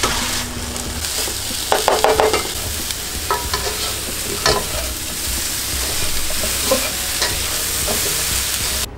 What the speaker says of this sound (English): now we're just gonna heat it up on the stove